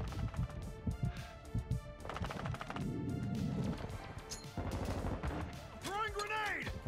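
Gunfire in the Call of Duty MW2 video game, dense bursts of rapid shots and impacts crowding a loud, busy mix with game audio and what may be voices layered underneath.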